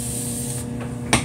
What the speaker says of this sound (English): I like to go ahead and spray a little bit more water in